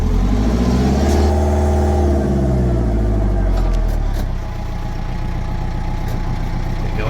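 A Case 895XL tractor's engine reversing, a loud close diesel drone that swells and shifts pitch before settling into a steady chugging rumble, with a brief clatter near the end.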